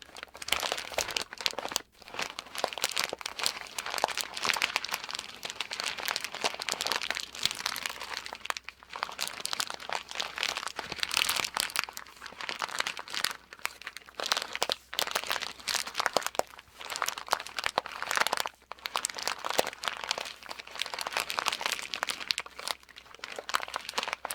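Continuous crinkling of crumpled material for relaxing ASMR, close and crisp, with dense irregular crackles and brief pauses throughout.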